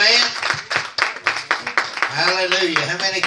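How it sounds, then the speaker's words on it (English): Church congregation clapping hands in a steady rhythmic beat during a Sunday morning service, with people talking and calling out over the claps. "Give the Lord a hand clap."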